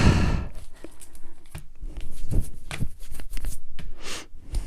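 Tarot cards being shuffled and drawn from a deck, with close, loud riffling and flicking in quick uneven bursts and a few sharp snaps as cards are pulled, with no talk.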